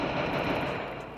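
Rapid automatic gunfire in a shooter video game, a steady dense burst of shots that stays loud and continuous for over a second with no talk.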